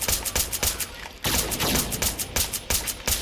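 Rapid bursts of .30 carbine pistol fire from an Automag III in Fallout 4, loud repeated shots with a brief pause near the middle, no talking.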